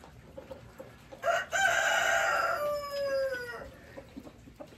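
A rooster gives one loud, drawn-out crow close by. The call rises and then trails off over a quiet outdoor background.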